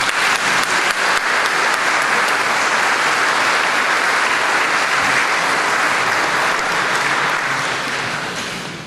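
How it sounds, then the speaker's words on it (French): A large audience at a church inauguration in Guénon applauds the mayor with dense, sustained clapping that stays loud throughout and then tapers off toward the end. "Je vous demande d'applaudir M. Joël Pirache,"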